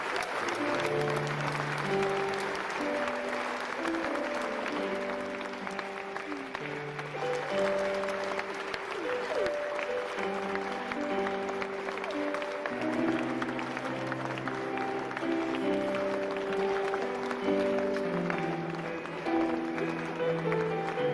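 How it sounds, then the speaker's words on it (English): Sustained audience applause at an honorific lecture celebrating a lawyer's lifetime achievements, a steady wash of clapping that runs throughout beneath prominent melodic music. "May I just pretend 1 second that I didn't hear the applause?"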